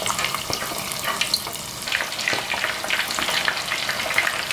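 Chicken breast frying in a pan for a spicy Korean-style chicken dish, giving a steady crackling sizzle with brief stirring noises throughout, no voices.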